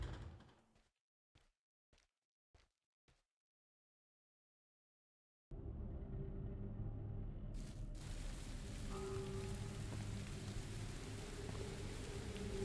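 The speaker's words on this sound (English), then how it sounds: "Sound effects taking a moment to kick in for the rain is a little awkward" Rain in the video game Labyrinth of the Demon King: a few sharp clicks, then silence, then a steady hiss of rainfall that starts abruptly and keeps going at an even level with a low rumble beneath it.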